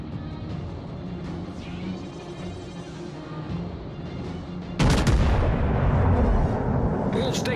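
An enemy battleship destroyed in World of Warships Legends: rumbling naval gunfire and ambient battle noise give way to a sudden, loud, sustained explosion blast that fills the last few seconds.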